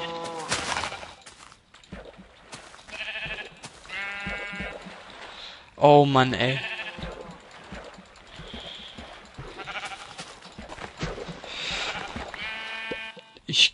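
Sheep bleating in Minecraft, several short wavering bleats with one louder, closer call near the middle, under German speech and game sounds.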